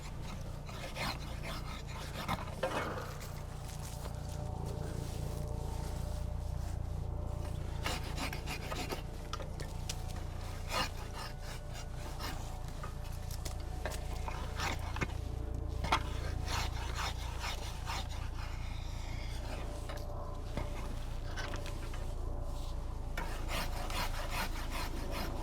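A hand saw rasps back and forth through an apple tree branch in steady repeated strokes, with a constant low rumble underneath and occasional pauses.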